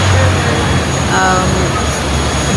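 Propeller airplane engines drone steadily at a tiny airport on the way to Cebu, a loud continuous rumble with some engine tones filling the whole stretch, a voice talking faintly underneath.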